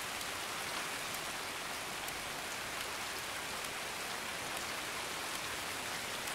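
Rain falling in Escape from Tarkov, a dense, even hiss of drops pouring steadily without pause and with no voices.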